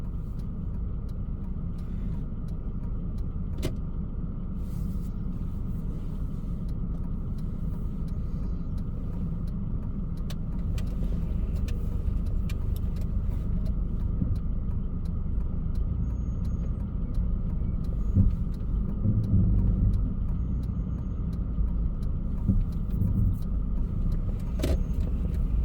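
Car on a driving test route, a steady low engine and road rumble heard from inside the cabin for the whole stretch, with small interior rattles and clicks and no talking.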